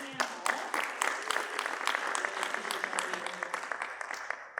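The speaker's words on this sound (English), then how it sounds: "If we can just give a round of applause for John and our panel." An audience applauds a guest named John and a discussion panel, a dense patter of many clapping hands that carries on steadily throughout.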